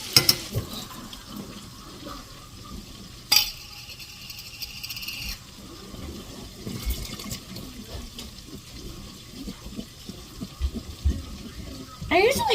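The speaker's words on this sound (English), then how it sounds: "I usually drain almost all of the liquid off the green beans" Liquid draining from canned green beans into a sink makes running, splashing water under a low murmur of voices, with a couple of sharp clanks and a louder splash near the end.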